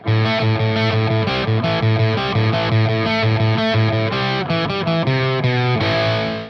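A heavily distorted electric guitar plays a main riff, loud and continuous, chugging chords with a buzzy, saturated tone and no voices.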